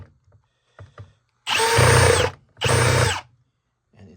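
A power screwdriver backs rusty screws out of an old Marantz audio unit in two loud close whirring bursts of about a second each, separated by a short pause, with soft handling clicks before and after.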